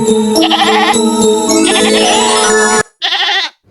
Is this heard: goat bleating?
yes